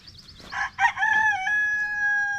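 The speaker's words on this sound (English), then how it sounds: "the chickens, of course, they're singing for us this morning" A rooster crows loudly nearby, a single long cock-a-doodle-doo with a sustained, drawn-out final note.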